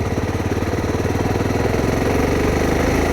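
A Suzuki DRZ 400 SM motorcycle engine chugs steadily at low revs in second gear at about 10 mph, its rhythmic pulsing loud and close throughout with no voices.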